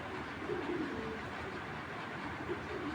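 A grizzle pair of pigeons coos softly in short, low murmuring phrases over a constant background hum.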